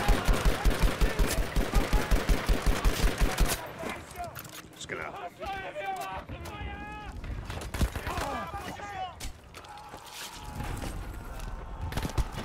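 Rapid automatic gunfire in the Battlefield 5 shooter, a fast rhythmic burst of close shots for several seconds, then scattered shots and battle noise continuing under quieter in-game sounds.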